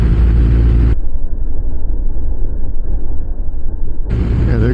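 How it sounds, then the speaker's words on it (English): A Tesla truck passes on a road, its steady low rumble filling the clip at close range with no talk. "Yeah, there goes a Tesla truck."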